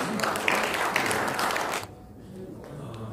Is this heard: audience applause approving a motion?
yes